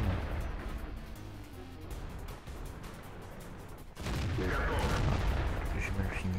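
Tank cannon fire from a T-43 in World of Tanks, a dense rumbling barrage of booms with a louder, brighter burst partway through, sustained and fairly close within the battle noise.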